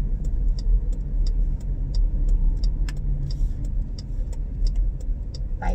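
A car drives steadily along a road, its low engine rumble and tyre noise continuous and fairly loud throughout, with faint intermittent ticking above it and no talk.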